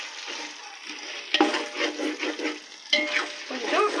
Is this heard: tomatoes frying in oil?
yes